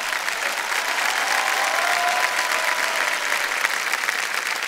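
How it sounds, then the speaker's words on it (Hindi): A studio audience on the KBC quiz show gives an even, sustained round of applause for Hema Malini and Ramesh, heard alone at a moderate level. "तो एक बार जोरदार तालियां बज जाएं हेमा जी के लिए और रमेश जी के लिए।"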